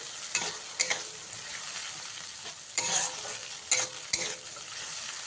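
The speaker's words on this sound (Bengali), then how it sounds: "এবারে আমি এর মধ্যে দিয়ে দিচ্ছি মশলার পেস্ট মশলার পেস্টটা দিয়ে ভালো করে মিশিয়ে নিতে হবে" Masala paste being stirred into frying onions for a cauliflower and egg curry, a soft steady sizzle broken by several sharp spoon scrapes and knocks against the pan, no voices.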